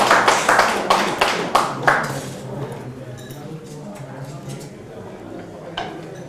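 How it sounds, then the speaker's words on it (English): A short burst of applause at the 13th World Leaders Summit starts with a few sharp, distinct claps that quickly fade into quieter room sound and murmuring. "A big round of applause for the people who have laid their lives for us"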